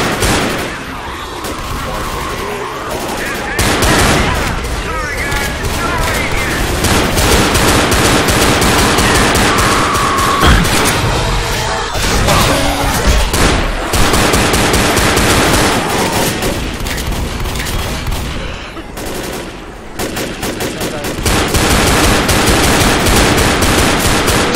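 Dense, sustained machine-gun fire rattles almost without pause while players shoot zombies in Left 4 Dead, loud and up close, with only brief lulls between long bursts.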